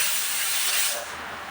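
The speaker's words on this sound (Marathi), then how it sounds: "आता डाळ भाताचा कुकर लावलाय" A loud, steady hiss of steam escaping from a pressure cooker of dal and rice, continuous and close, easing slightly toward the end.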